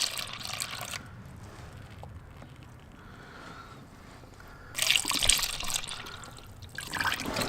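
Coolant pours into the cooling system of a BMW E46 330xi with the engine off, a steady liquid trickle that swells into a louder, splashing gush toward the end, close by with no talking.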